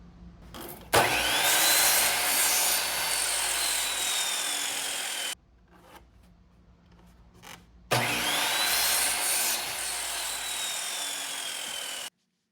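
Two long bursts of a power saw cutting through cedar fence pickets, each a loud, steady whine of several seconds separated by a brief quiet gap, with no talking.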